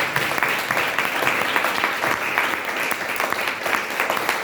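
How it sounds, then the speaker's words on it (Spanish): An audience at a book presentation applauds, a dense, steady round of clapping from a crowd filling the room for several seconds. "aplauso gigante para ustedes"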